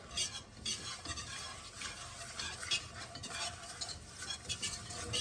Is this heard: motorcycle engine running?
no